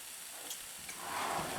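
Cooking oil hissing and sizzling as it heats in a pan for white chicken adobo with coconut milk: a steady, soft, close sizzle that swells slightly toward the end, with no voices.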